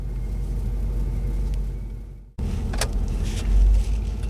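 A 1993 Buick Roadmaster wagon pulls out onto a main road, giving a low steady engine rumble that briefly cuts out and then resumes with light road noise and a thump near the end.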